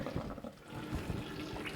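Tap water running steadily through a K8 water ionizer under a kitchen faucet, a soft continuous rushing and splashing heard up close with no talk.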